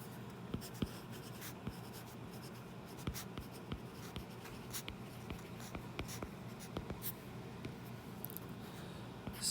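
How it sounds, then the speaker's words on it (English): A pen scratching out notes on paper, a steady close run of soft scribbles and light taps that goes on without pause and with no talking. "We're gonna write down our requirements"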